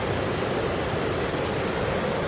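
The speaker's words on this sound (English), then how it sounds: "get a different view of this waterfall" A waterfall gives off a steady, dense rushing roar that stays level and unbroken, fairly loud and with no other sounds, across a short stretch of the falls in Southeast Minnesota or Northeast Iowa.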